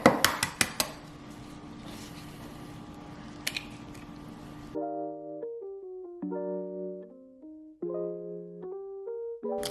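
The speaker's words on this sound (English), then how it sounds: "I'm gonna crack the egg, kind of sift it through with my fingers" An egg being cracked and its yolk separated into a bowl: a few sharp taps and clinks against the bowl at the start, another knock a few seconds later, then quieter handling as soft tonal music takes over.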